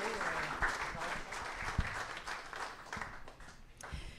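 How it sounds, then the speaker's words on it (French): A conference audience at a multiple sclerosis meeting applauds warmly, a broad crowd clapping that gradually thins toward the end, with some murmuring voices mixed in. "Une bonne main d'applaudissements."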